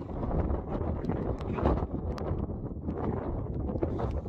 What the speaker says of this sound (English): Actually, it's going to be too windy